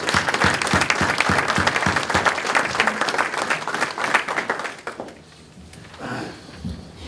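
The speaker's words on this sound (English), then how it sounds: "So please join me in a round of applause." An audience applauds at a Veterans Day ceremony in Wareham, with dense, loud clapping that carries for about five seconds before thinning into a few scattered claps and quieter crowd murmur.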